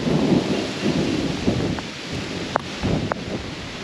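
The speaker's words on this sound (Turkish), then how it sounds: "Bu arada çok kuvvetli bir fırtına başladı." Heavy rain pours steadily in a strong storm over a garden while thunder rumbles and cracks nearby, with a few sharp bursts standing out against the constant downpour.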